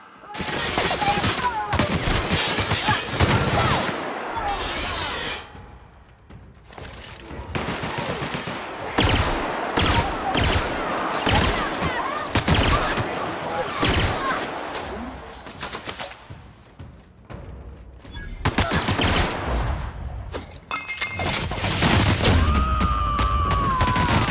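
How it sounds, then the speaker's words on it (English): Sustained gunfire in the sci-fi video game The Outer Worlds, with dense bursts of rapid automatic shots and heavy single blasts running almost nonstop and only brief lulls, plus some faint speech mixed in. "Returning fire!"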